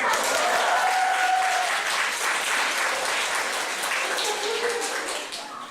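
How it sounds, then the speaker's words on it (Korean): Congregation applause at a Sunday church service in Daejeon, a dense steady wash of many hands clapping throughout, fairly loud and continuous, tapering slightly at the end. "박수면 돼."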